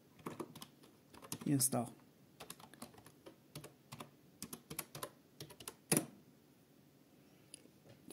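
Quiet typing on a computer keyboard at a Linux terminal, with irregular bursts of key clicks and short pauses, plus a few louder taps, while a voice speaks softly in the background.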